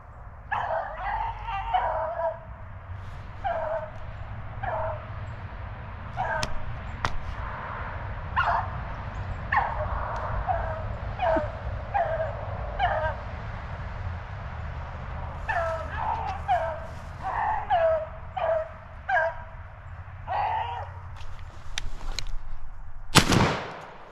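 Beagles bay and yelp in repeated bursts while chasing a rabbit on a Pennsylvania hunt. The pack sounds moderately distant over low background rumble, and a sharp crack near the end may be a gunshot.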